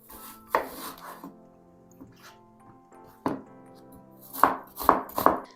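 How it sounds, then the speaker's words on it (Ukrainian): Knife strikes on a cutting board as onions are diced into small cubes, a few sparse chops followed by a quicker cluster of sharp taps, close by. "Мені знадобиться дві цибулинки і потрібно їх нарізати дрібним кубиком"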